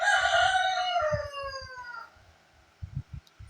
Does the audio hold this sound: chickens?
yes